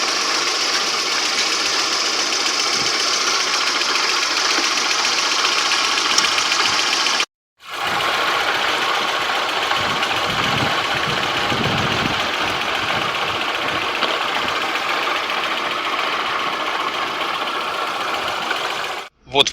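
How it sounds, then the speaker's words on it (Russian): Car engine idling steadily during a cooling system flush with citric acid, a loud continuous mid-pitched rumble with a brief cut near the middle and no one speaking over it. "Машина работала на холостом ходу."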